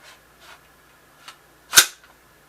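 AR rifle dry firing after a trigger job, several faint mechanical clicks followed by one sharp, louder snap as the hammer falls, close and alone with no talking.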